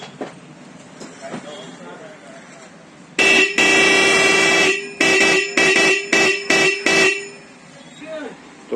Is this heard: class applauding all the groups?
no